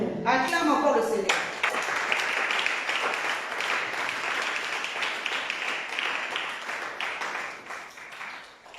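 A church congregation breaks into sustained, dense applause right after a brief spoken exclamation, the clapping holding steady and then thinning slightly toward the end.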